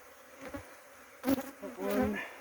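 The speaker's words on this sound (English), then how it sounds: "Very unimpressed bees, but that's about to happen." Honey bees from old hives being moved buzz in short rising bursts near the microphone, a soft background hum broken by louder close passes.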